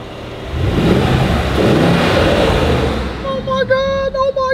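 A Mercedes-AMG GLE 63S Coupe in race mode roars loudly and close for several seconds, then the engine noise drops away as excited voices break in at the end.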